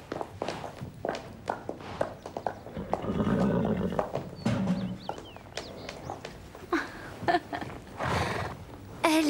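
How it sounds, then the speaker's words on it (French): A horse in an animated series whinnies loudly amid quick clip-clopping hoofbeats and footsteps, with a faint bird chirp in the background. "N'approche pas avec ce cheval de malheur"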